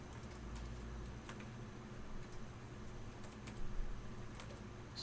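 Someone types on a computer keyboard while working in 3D design software, producing quiet, irregular key clicks in short bursts over a low, steady room hum, with no voices.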